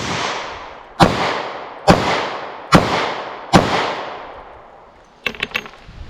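Four loud, sharp revolver shots from a J-frame at target practice ring out about a second apart, each with a long decaying echo, followed by a quick cluster of metallic clicks and rattles.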